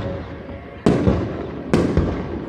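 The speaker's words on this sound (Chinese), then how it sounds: "我们释放了我们第一次的烟火秀" A night fireworks show at a dog training school in Taiwan, with two sharp, loud bursts less than a second apart, each followed by crackling decay over a low rumble.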